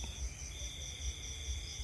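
Steady, high-pitched cricket chirring fills a quiet rural night scene around 8 pm, continuous and even throughout, with no voices.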